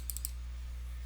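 A computer mouse gives a few rapid, crisp clicks right at the start, then only a steady low hum remains.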